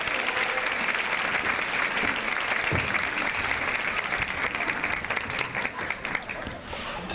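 An audience at a Go Red for Women luncheon breaks into steady, full applause to welcome a speaker, the dense clapping holding throughout and thinning slightly near the end.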